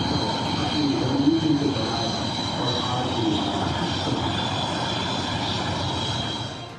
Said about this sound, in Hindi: air chief marshal EP Singh ने MiG-21 फाइटर जेट की आखिरी उड़ान भरी